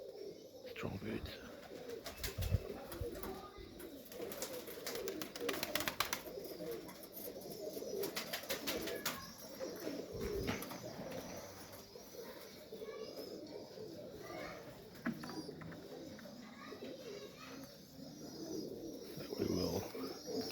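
Serbian Highflyer pigeons cooing in a breeding loft, soft repeated coos and rustling mixed with other bird chirps, faint and close, with people talking quietly nearby.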